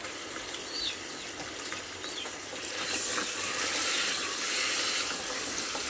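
Pieces of meat, cooking with potatoes, go into hot oil and set off a steady, close hissing sizzle that swells louder halfway through and keeps going.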